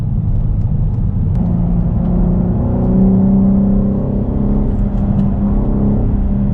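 A 510-horsepower BMW M4 on a race circuit, its engine droning loud and steady from inside the car, swelling slightly in the middle with no talk over it.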